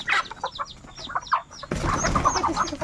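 A flock of pet chickens clucks and chirps at feeding time, with rapid overlapping calls close by, the clucking growing busier and denser partway through.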